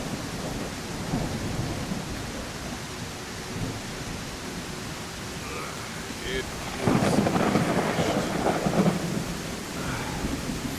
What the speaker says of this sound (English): It's too early for a storm, isn't it?